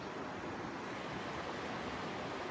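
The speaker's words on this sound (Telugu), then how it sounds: "ఆ సౌండ్ చూడండి, అలల సౌండ్" Sea waves wash onto a New Zealand shore in strong wind, a constant broad rushing surf with no breaks and no voices.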